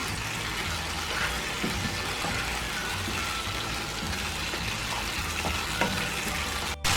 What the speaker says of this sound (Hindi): अब इसको अच्छी तरह भून लेंगे